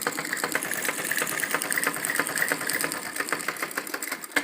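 A sewing machine stitches a fine seam on a belted salwar with a steady, fast, close-up clatter of needle strokes that runs without pause.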